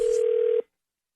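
A steady telephone dial tone hums alone, loud and unbroken for about half a second before it cuts off abruptly into silence at the start of a prank call.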